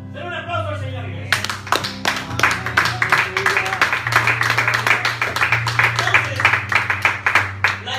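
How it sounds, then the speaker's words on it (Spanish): A church congregation claps during a sermon, starting after a held organ chord and building into a fast, rhythmic run of sharp, close claps over the sustained keyboard tones. "Denle un aplauso al Señor."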